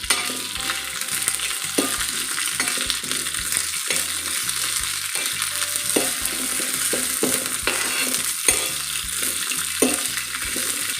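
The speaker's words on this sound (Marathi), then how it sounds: "आता आपल्याला या ज्या भाजायच्या आहेत ह्या थोड्या मोठ्या आचेवर भाजायच्या आहेत" Green chillies roast in oil on a hot iron griddle over a high flame, giving a steady close sizzle broken by repeated scraping and stirring strokes for a rustic Maharashtrian chilli thecha.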